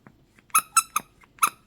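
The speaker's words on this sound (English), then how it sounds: "I think it's got a squeaky in there" Squeaky dog toy shaped like a zombie arm, squeezed in four sharp, close squeaks spaced about a fifth of a second apart, with a softer squeak near the end, no talking.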